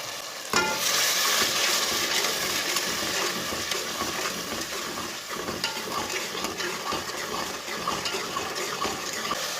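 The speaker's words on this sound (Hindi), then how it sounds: "थोड़ा सा पानी डाल लेंगे।" A steady rush of water pours into a hot pot of fried spice masala, hissing and bubbling continuously, loud and close, with no voices.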